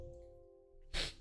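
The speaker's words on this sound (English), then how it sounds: "I sneezed and my mic fell." A single sudden sneeze bursts out near the microphone after a moment of quiet with a faint electrical hum, short and loud.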